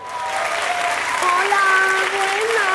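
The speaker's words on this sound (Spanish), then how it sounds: "Un fuerte aplauso para ella." Strong studio-audience applause on a comedy talk show, with sustained clapping and raised voices or cheers rising over it near the end.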